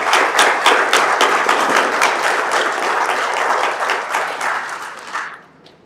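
A large crowd at a live WESPAC 2025 event in Accra breaks into loud, dense applause that holds steady for about five seconds, then tapers off quickly to near silence.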